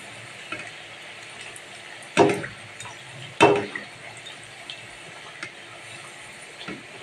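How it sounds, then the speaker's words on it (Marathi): Sweet stuffed karanji pastries frying in hot oil give a low steady sizzle, broken by two louder splashy bursts as pieces go in, close by, with faint clinks in between. "आता ही करंजी मी तळते या."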